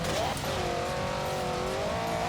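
A tiny car drives in the racing game Forza Horizon 3, its engine droning steadily at a constant pitch throughout, loud and close, with tire noise underneath and a brief rise in pitch at the start.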